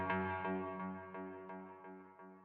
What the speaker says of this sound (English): you can just hear like we got the filter delay kind of going back and forth through different ears